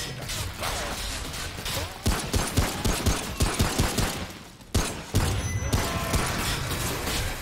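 Enemy gunfire in Remnant from the Ashes, a rhythmic string of heavy shots firing in quick succession, with mechanical clanks and a sharp impact amid a noisy fight.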